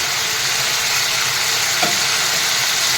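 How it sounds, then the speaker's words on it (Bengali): Peanuts fry with spices in a pan while khichuri is being prepared, giving a steady, dense sizzle throughout with a faint brief stir or clink near the middle and no talking. "বাদামটা একটু মশলার সঙ্গে ভেজে নেব।"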